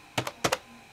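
Four quick keystrokes on an NEC Versa 6030X laptop keyboard, in two close pairs, crisp and near, followed by quiet hum.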